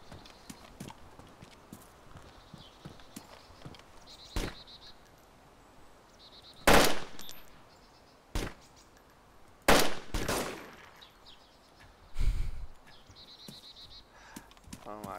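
Loud gunshots ring out in a DayZ match, several separate cracks spaced a few seconds apart, with quieter clicks and movement sounds between them.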